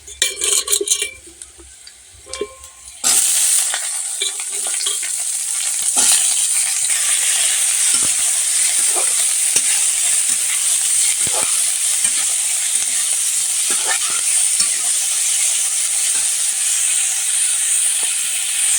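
Potatoes and greens for a cauliflower curry hit a hot pan. A loud, close, steady sizzle starts abruptly after a few quiet seconds of handling and then continues, with occasional stirring clatters.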